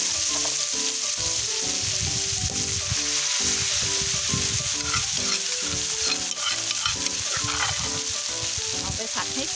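Pounded fish stir-fried in a little oil, a loud, dense sizzle with rhythmic scraping and tossing strokes of a spatula against the pan throughout.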